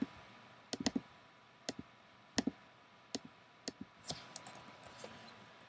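Quick bursts of mouse clicks while dropping logs in a woodcutting video game, sharp close ticks in irregular clusters with short pauses between them.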